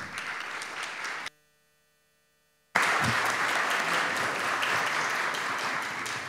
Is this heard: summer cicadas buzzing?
no